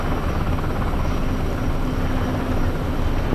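A Hawker Hurricane propeller aircraft comes in to land. Its engine makes a loud, steady, close drone with a coarse rumbling texture and holds constant throughout, with no voices.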